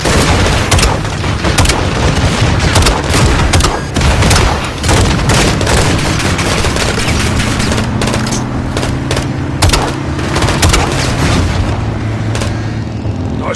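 Sustained light machine gun fire during a Call of Duty: Modern Warfare 2 battle, loud irregular bursts of shots mixed with heavy booms and a low engine drone, without any talk.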